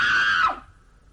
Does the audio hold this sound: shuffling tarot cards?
no